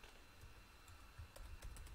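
Keys tapped on a computer keyboard while a cursor is placed in a text editor, a few faint separate clicks growing slightly denser toward the end, quiet and close with no talking.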